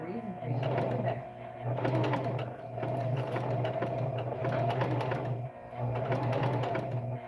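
A sewing machine with a walking foot drives fabric along in sustained bursts of steady, rapid mechanical whirring and clatter, pausing briefly between runs while two people talk over it.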